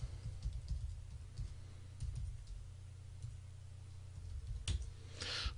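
Soft, quick keystrokes clatter on a computer keyboard in short uneven bursts, faint and close, with a brighter click or two near the end and no talking.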